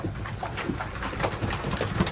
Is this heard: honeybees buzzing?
no